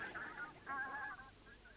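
Ducks and geese in a park honk in short, bright bursts, a few overlapping calls close by and fairly loud, with no talking.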